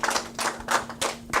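An audience claps in a talk setting, with about five bursts of hand claps over a steady faint hum, the clapping close and fairly loud.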